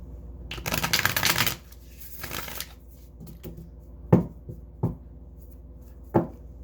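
A deck of cards riffled twice in quick bursts, followed by several soft, separate taps as cards are squared and set down.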